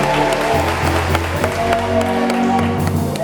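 Studio audience applauding in a French television show, a dense wash of clapping throughout with a steady low hum and musical tones underneath.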